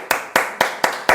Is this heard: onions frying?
no